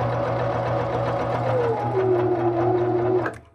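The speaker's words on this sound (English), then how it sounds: "it's starting the bar tack at the back of my buttonhole now." A Baby Lock Molly sewing machine stitches the bar tack at the end of a buttonhole, a steady close mechanical whir with rapid needle rhythm and a rising motor tone that stops abruptly at the end.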